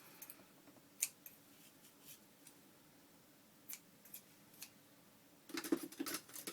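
Scissors trim the ends of a small piece of purple ribbon in a quiet crafting setting, a few faint, crisp snips spread apart, then a quick cluster of cuts at the end.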